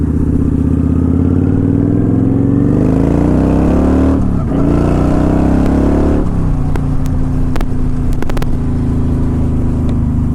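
Kawasaki Vulcan motorcycle ridden on a cold day, heard from the saddle: a loud, continuous engine drone with pitch rising and falling through gear changes, plus steady wind noise and a few sharp clicks.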